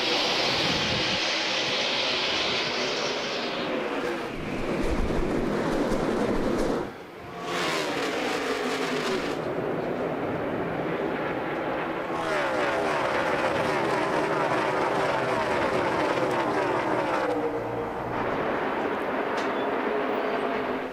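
A NASCAR field of stock cars, Gibbs Toyotas among them, thundering away at the green-flag start: a loud, dense, continuous engine roar that dips briefly then swells again, with no voices.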